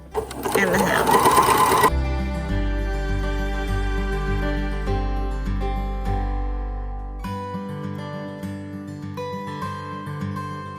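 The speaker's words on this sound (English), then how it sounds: "so our hem has been sewn for our sleeves and the bottom of our shirt" Sewing machine stitching the hems of shirt sleeves and the shirt bottom, a steady close mechanical whir with a brief busier burst at the start, then continuous droning runs with rhythmic stitching texture.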